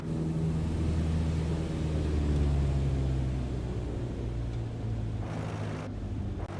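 Aircraft engine in Microsoft Flight Simulator 2020 after all power is cut: a steady low drone whose tones slowly sink and thin out, heard alone with no talk.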